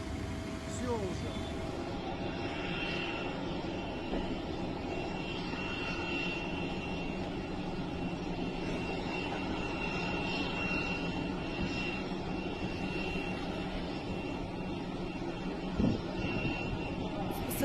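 An airplane comes in to land during a crash in Russia, its engine a steady distant roar heard through the whole stretch beneath constant wind and background noise, with occasional voices nearby.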